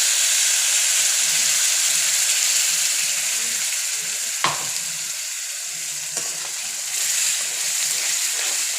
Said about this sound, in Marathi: मी जे वाटण वाटून घेतले ना ते टाकून देऊया